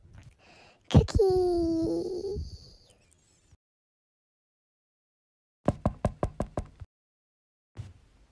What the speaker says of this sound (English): Why are you knocking on the living room door?